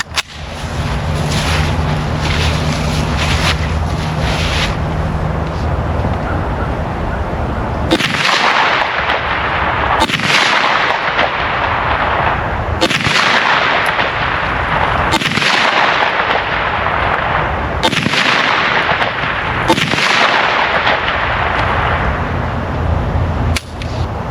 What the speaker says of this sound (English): I'm going to be testing a 5-shot group with Underwood, 115 grain plus P plus ammunition, and see what kind of group we can get at 25 yards.